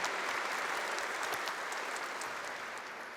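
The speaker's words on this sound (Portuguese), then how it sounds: "Uma salva de palmas à palavra de Deus" A church congregation applauds after a Mass reading, a broad wash of clapping from many hands that holds steady and slowly fades toward the end.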